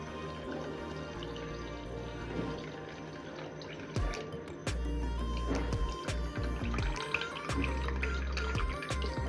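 Soaking water, left from steeping mango peels and stones, poured into mango pulp for aamras in a home kitchen, heard as a close, steady splashing pour with drips, with no talking.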